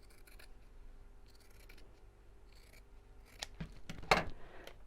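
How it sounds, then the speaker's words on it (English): Fabric scissors snip through two layers of cloth at once for a sewn reversible bag, making quiet, close crisp cuts in a few short runs, the last ones a little louder. "I'm cutting through 2 pieces at the same time"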